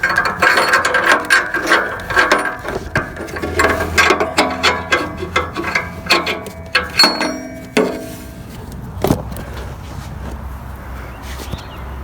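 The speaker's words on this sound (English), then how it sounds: "I don't know the torque on this, but going with that right there. I pull my wrench away." A ratchet wrench clicks rapidly and repeatedly while tightening an oxygen sensor on a Toyota Corolla, close and loud. Metallic clinks and a knock follow as the ratcheting stops and the tool is set aside.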